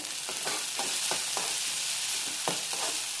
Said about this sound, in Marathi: टोमॅटोही छानसा भाजून घेऊया.